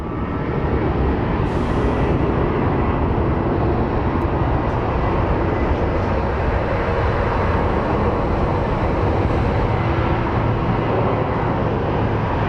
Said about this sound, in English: But we do have a 737. That is departing for Chicago for ORD